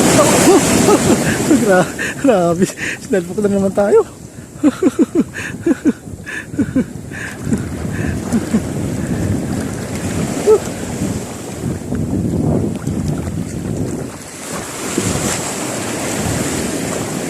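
Sea waves wash and slap around a small fishing boat on murky open water, with steady wind noise buffeting the microphone while people talk excitedly throughout.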